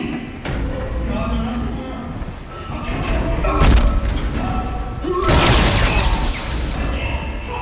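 Heavy smashing thuds and crashing impacts from the Dead Space video game as spotters are broken apart, with loud bangs amid game sounds and some talking.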